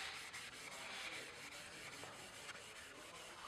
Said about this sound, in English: with our sandpaper, we're going to go ahead and sand in one direction